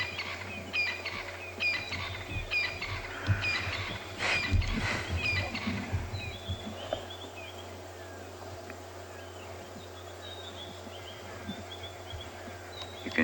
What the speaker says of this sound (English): there's the crested francolin going now.